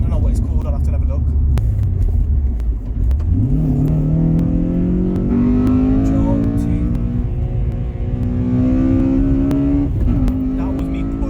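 Honda Accord Euro R CL7 with an upgraded exhaust, driven hard around a bend: a loud, steady engine drone climbs in pitch through the gears, held close and continuous with a brief dip at a shift.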